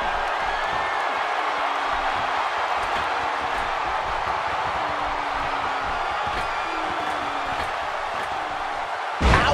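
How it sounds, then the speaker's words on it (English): A crowd in the WWE 2K wrestling video game roars in a steady, dense wash of cheering and noise throughout, with no clear voices on top. "by the sound of this crowd, I think they're getting what they wanted."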